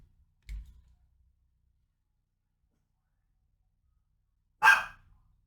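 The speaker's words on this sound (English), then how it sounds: "I had to pause for her barking." A dog in a quiet room gives a single sharp bark near the end, preceded by a faint soft thump, with long silence in between and no speech.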